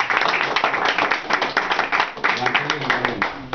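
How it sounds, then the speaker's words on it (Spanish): A church congregation claps steadily in a full, rhythmic round of applause, close and continuous, with faint voices underneath. "merece aplauso"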